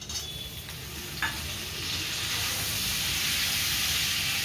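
Tomatoes are stirred in a hot frying pan while cooking a Bengali chana dal dhoka dish, giving a close, steady sizzle that swells louder and fuller after a brief scrape partway through.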